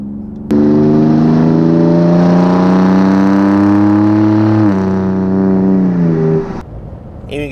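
A Ford F-150 Raptor EcoBoost turbo truck with a MagnaFlow 3-inch dual split rear exit cat-back exhaust revs loudly in one long sustained pull for about six seconds, engine tone climbing steadily with a faint turbo whir, then cuts off.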